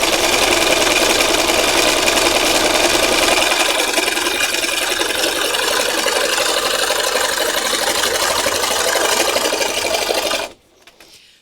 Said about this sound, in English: you can stitch in any direction when you're free motion stitching